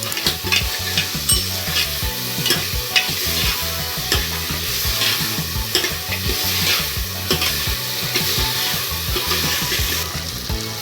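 Spiced urad dal stirred in a hot pan over medium heat: repeated rhythmic scraping and stirring strokes over a constant sizzle, loud and close throughout.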